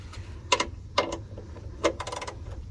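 A ratchet wrench with a 15 mm socket working loose the differential drain plug on a 1988-1999 Chevy C/K1500 pickup, giving a few separate close clicks and then a quicker run of ratcheting ticks, with no talk.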